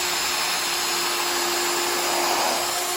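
A power drill pre-drills screw holes in a wooden bed frame, a loud, steady whine with a constant pitch, running unbroken and close for the whole stretch.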